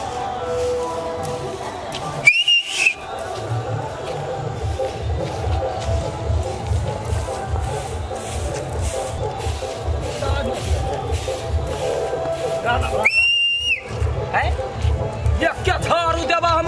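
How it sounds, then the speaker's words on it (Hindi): A person whistles in a Maithili comedy scene, two short, sharp whistles far apart, heard under steady ongoing conversation. "सीटी मार रही है"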